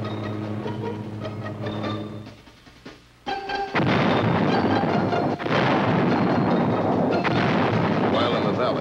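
Artillery in Vietnam War footage booms and rumbles, heavy sustained blasts filling the second half after quieter mechanical noise, loud and dense, with occasional faint voices underneath.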